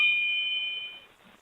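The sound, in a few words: bell ringing in a spooky story video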